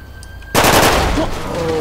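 Gunfire in MindOnMurder RP: after a quiet start, a loud, close burst of rapid shots breaks out and keeps going to the end.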